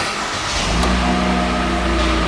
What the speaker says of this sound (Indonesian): kita akan starter mobilnya.